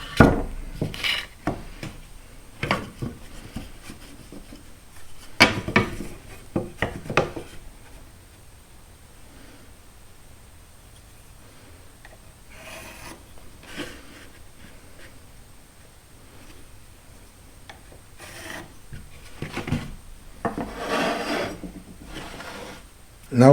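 A pencil drawn along a speed square on a wood board while marking lines, producing intermittent scratchy rubbing strokes and light taps of tools handled close by, separated by quieter gaps.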